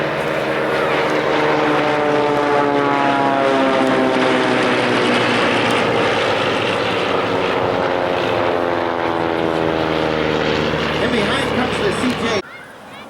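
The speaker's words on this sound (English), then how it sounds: "That's the L-17 Navion, the first of our monoplanes" An L-17 Navion propeller monoplane, a vintage aircraft, drones loudly and steadily overhead with a harmonic engine tone that slowly shifts in pitch, cutting off abruptly near the end.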